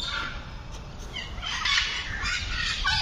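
A peacock calls at Alipore Zoo on a winter morning, giving short, harsh squawking cries in the middle and again near the end, against a busy outdoor background of zoo ambience.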